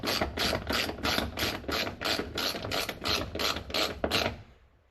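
A hand ratchet clicks in a rapid, even series of about a dozen sharp ratcheting bursts while tightening car seat bolts in a classic car interior, close and clear, fading out at the end.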